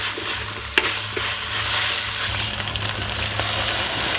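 Green chilli paste with a splash of water being stirred and fried in a pan for village-style chicken pulao, a steady close sizzle with spoon scrapes and a sharp clack near the start, no voices.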